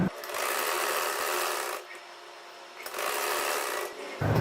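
A sewing machine stitches along the turned-in fabric strip edge of a salwar hem, running in two steady, buzzing bursts separated by a brief pause, close and clear with no speech.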